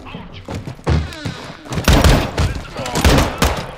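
Gunfire in the video game Call of Duty Modern Warfare 2 aimed at a bomb, loud bursts of shots and heavy thuds, close and dense, mixed with game noise and a voice speaking over it.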